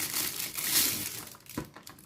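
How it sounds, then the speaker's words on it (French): Close-up crinkling and crackling of sticky tape being handled and pulled off fingers, in short irregular bursts with no talking. "J'ai le scotch là qui reste collé à mes doigts."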